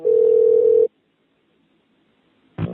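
A steady telephone tone hums loud and alone for under a second, cuts to near silence, then a second burst of tone starts just before the end.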